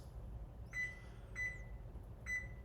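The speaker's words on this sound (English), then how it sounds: "And set a timer for 15 minutes." A kitchen timer being set gives three short, clear electronic beeps, evenly spaced, over a quiet room hum.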